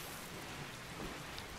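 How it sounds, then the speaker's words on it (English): Steady rain hiss from the RimWorld video game, a continuous broadband wash with faint patter and no other sound throughout. "It's raining."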